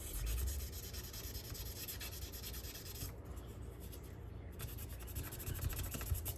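Sandpaper of 800 grit rubbing back and forth along the blade of a Wards USA three-blade stockman pocketknife, heard as a steady, close, rasping hiss with no pauses and no talking.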